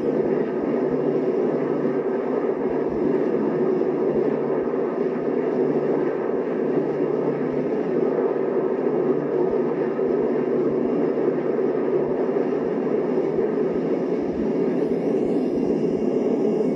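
A steady, loud propeller-engine drone roars on without a break, a dense constant rumble of a 1960s airplane in flight.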